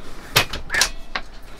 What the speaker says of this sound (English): the fact that the door opens both ways